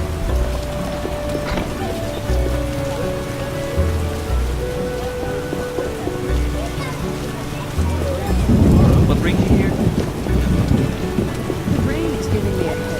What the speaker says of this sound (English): The rain is giving me a headache.